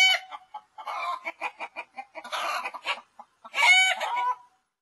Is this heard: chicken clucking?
yes